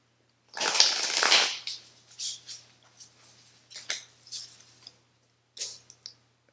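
Oracle cards from a deck are handled and shuffled close up, with a burst of riffling followed by scattered soft flicks, taps and slides of card stock in a quiet room.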